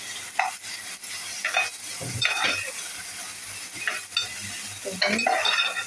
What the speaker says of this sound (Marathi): परतून घेते थोडंसं मी मीठ कांदा टोमॅटो छान फ्राय होईल